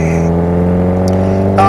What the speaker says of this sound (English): So there I'm just running up the gears